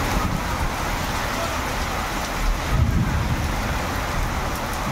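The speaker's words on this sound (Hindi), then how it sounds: "भयंकर वर्षा" Heavy rain pours steadily during a storm in Bhubaneswar, a dense continuous hiss with low rumbling swells that suggest thunder, loudest near the three-second mark.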